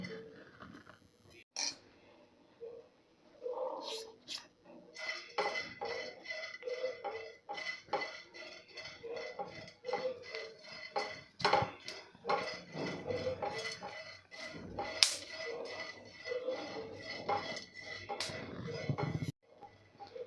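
Magaj melon seeds dry-roast in a pan, scattered sharp pops and crackles breaking out among spoon clinks and scraping against the metal, close and irregular, with quiet stretches between bursts.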